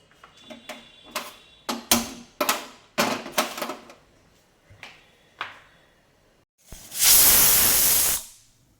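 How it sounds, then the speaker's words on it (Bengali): A lid goes onto a pressure cooker of duck meat with a run of sharp clicks and knocks, then a loud hissing burst of steam lasts about a second and a half before cutting off. "এবার এটাকে আমি ঢাকনা লাগিয়ে চারটে সিটি মেরে নেবো"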